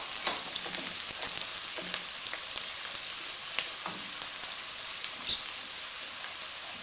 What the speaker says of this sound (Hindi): प्याज हम गोल्डन कलर आने तक फ्राई कर लेंगे